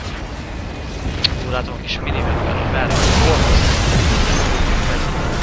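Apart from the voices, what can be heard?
explosions in Darksiders video game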